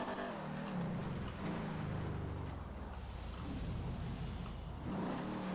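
Car driven at speed in GTA 5 on maximum graphics settings, a steady engine drone with shifting revs and rushing road noise throughout, fairly quiet and unbroken.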